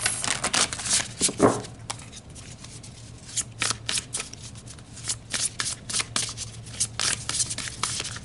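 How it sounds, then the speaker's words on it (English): Tarot cards being shuffled during a Pisces eclipse reading: repeated riffling and rubbing bursts of card against card, close and fairly loud, with no talking. "So let's pull some more cards."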